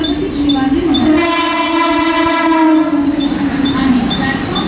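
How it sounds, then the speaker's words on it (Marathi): A Mumbai local train pulls in at the station platform. Its horn holds a long, loud, steady tone over the rumble and clatter of the wagons, close by. "प्लॅटफॉर्म क्रमांक 2 वर आलेली लोकल 10 वाजून 44 मिनिटांची मुंबई छत्रपती शिवाजी महाराज"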